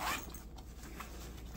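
A zipper on a waist bag pocket is pulled once, a short, faint, close rasp.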